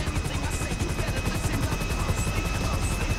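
Steady, loud rotor drone of a police helicopter in the video game GTA V, continuous throughout, with a thin high whine on top.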